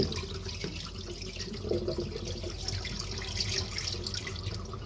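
Sticky rice being rinsed in water by hand, with the cloudy rinse water poured off before steaming; steady close running and sloshing water sounds with no talk.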